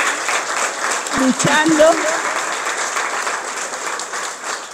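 People at a book presentation applaud in a steady, moderately loud wash of clapping that fades slightly toward the end, with a voice speaking briefly over it.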